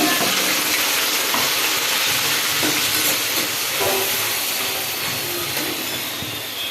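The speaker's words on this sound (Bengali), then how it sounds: "তেল গরম হয়ে গেছে পেঁয়াজ বাটাটা দিয়ে দিলাম" Onion paste sizzles steadily in hot oil in a kadai for chicken bhuna, a dense, continuous close frying hiss with occasional stirring clicks and no voices.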